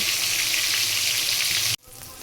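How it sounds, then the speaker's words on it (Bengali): Hilsa fish head frying in hot oil, a steady close crackling sizzle that runs without a break for nearly two seconds before cutting off sharply into near silence. "সেজন্য মাথাটা আগে আমি ভালো করে ভেজে নেব।"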